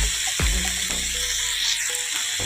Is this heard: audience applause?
no